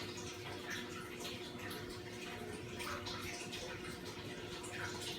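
Water steadily refilling the float-valve mixing containers of a 110-gallon reef tank setup fed from house water through an RODI unit, a constant broad splashing rush without a break.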